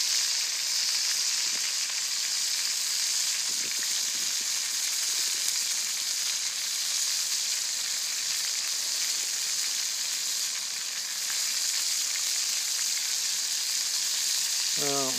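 Venison sausage sizzles over a Bushcraft Essentials XL campfire stove, a steady, even frying hiss that runs unbroken for the whole stretch, with only a few faint knocks and no talking.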